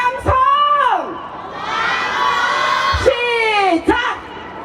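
At a Wednesday demonstration over Japanese military sexual slavery, a crowd of voices raises a sustained shouted cheer for peace, loud and close, with shriller individual calls rising and falling at the start and end.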